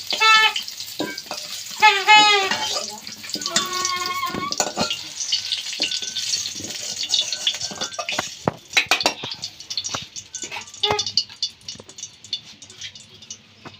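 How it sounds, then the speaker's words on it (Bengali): Potato pieces fry in hot oil in a pan while a spoon stirs and taps against the metal, a steady close sizzle with intermittent clinks, with a voice talking over the first few seconds. "আলুটা ভাজা আমার হয়ে গেছে এবার তুলে নেব"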